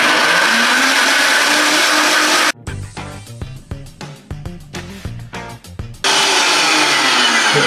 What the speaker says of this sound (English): I think we're going to blend on high for 30 seconds in each blender.